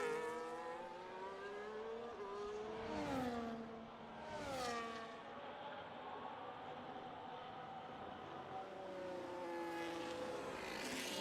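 Formula 1 race cars from a video game roar through the Singapore street circuit, engine notes sweeping up and down as cars pass near, with a steady layered drone of several cars between the passes.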